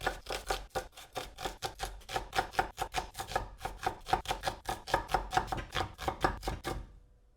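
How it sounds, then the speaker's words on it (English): A knife thinly slices three onions on a board, quick close rhythmic chops repeating steadily for several seconds before stopping. "I'm just going to thinly slice these 3 onions."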